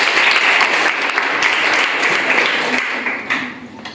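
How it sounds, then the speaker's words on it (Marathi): An audience at a school quiz claps in loud, dense applause that holds steady and then tapers off toward the end, with no voices over it. "मम्मीच्यासाठी सगळ्यांनी टाळ्या वाचायच्या"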